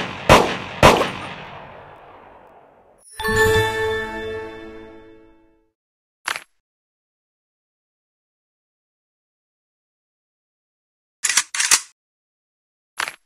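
Gunshots ring out at a shooting range in a mobile video game: two sharp loud cracks with a decaying tail, then a ringing metallic burst, followed by isolated single shots and a quick pair later on.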